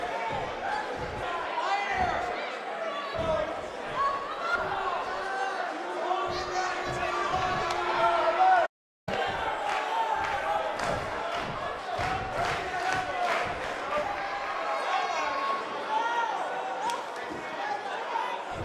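A wrestling crowd in the video game WWE 2K19 roars steadily, with cheers and rhythmic chanting and thuds, loud and dense, briefly cut to silence midway, while a commentator talks over it.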